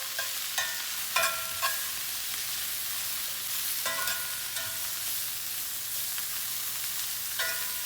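Brussels sprouts and roasted garlic being stirred in a frying pan, with soft scraping strokes of a utensil at irregular intervals over a steady low sizzle.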